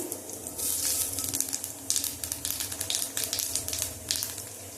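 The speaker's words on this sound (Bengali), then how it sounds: "কালো জিরে ফোড়ন দিলাম" Nigella seeds (black cumin) crackle as they temper in hot oil, giving a steady close sizzle with bursts of sharp pops and spits that rise and fall throughout.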